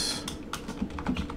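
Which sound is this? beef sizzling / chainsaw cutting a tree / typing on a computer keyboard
typing on a computer keyboard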